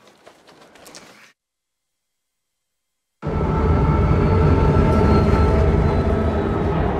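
Train in the video game Saints Row, heard after a brief silence as a loud, sustained rumbling roar with dense rattling that continues steadily to the end, with no talk.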